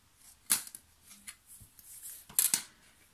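Scissors cutting a strip of paper, crisp snips in two bursts, one near the start and a double snip later, close and fairly loud over quiet rustling.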